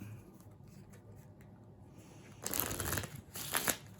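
A soft, brief riffle of playing cards being shuffled, close but quiet, after a stretch of faint handling sounds.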